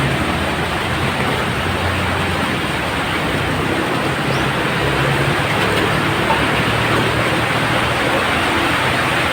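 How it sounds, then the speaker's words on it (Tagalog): Rain falling on an abandoned house, a continuous dense hiss of downpour that holds evenly loud from start to finish with nothing else breaking through. "yan ang ulan ng"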